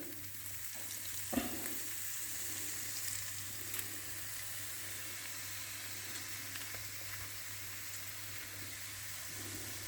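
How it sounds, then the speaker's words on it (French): A large, well-filled frying pan of shallots, tomatoes and onions deglazed with lemon juice, giving a steady, faint sizzle and hiss throughout with a single brief clink near the start. "il me reste à déglacer au citron"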